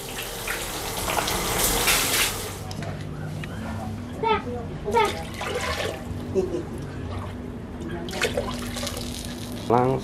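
Freshly gathered golden apple snails and sweet potato leaves are washed in water, with splashing and sloshing heard close by. Adults and children talk over much of the washing.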